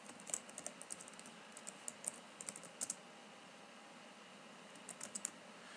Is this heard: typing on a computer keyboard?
yes